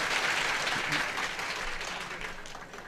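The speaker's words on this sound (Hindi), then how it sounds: "तालियां कमजोर हैं हमसे" A seated audience at a Ram Katha religious discourse applauds in one continuous, moderately loud wave of clapping that slowly tapers over a few seconds.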